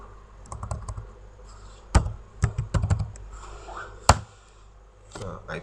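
Keys on a computer keyboard typing the ipconfig command, a short run of crisp, close clicks with a few heavier strikes like the space bar or Enter, quiet between bursts.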